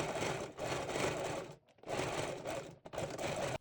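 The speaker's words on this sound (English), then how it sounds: "Pin it down with the needles and sew with sewing machine." A sewing machine stitches a fabric pocket onto a quilted makeup bag lining, running in three steady bursts with short pauses between them, close and even.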